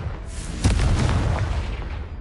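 Confringo blasting-spell explosion in a wizarding video game: a single deep boom hits sharply, then a broad rumbling roar lingers and slowly fades.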